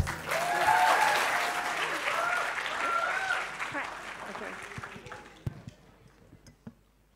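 A plenary-session audience at a youth summit breaks into sustained applause welcoming a speaker, loud and dense at first and then thinning to a few scattered claps and thumps.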